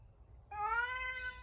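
A cat lets out one clear, rising meow that lasts about a second, close and fairly loud over a low, quiet background hum.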